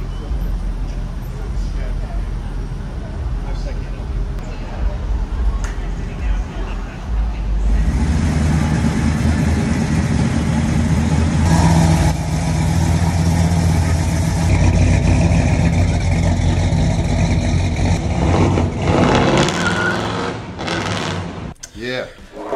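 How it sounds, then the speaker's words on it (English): A 1968 Chevrolet El Camino engine idles with a loud, steady low rumble that swells heavier partway through, with voices talking over the running motor. "Look at this engine, man."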